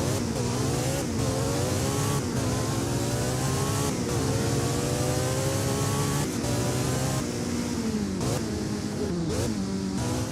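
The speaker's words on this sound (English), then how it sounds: "the next car which we have is a Porsche 918 Spider" A Porsche 918 Spider hypercar engine revs in a Driving Empire racing game, loud and continuous, the pitch climbing through repeated gear shifts with brief dips between them.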